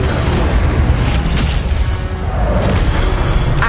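An Incendio fire spell in Hogwarts Legacy goes off as a loud, dense whooshing roar of fiery bursts that holds strong for several seconds with no gaps.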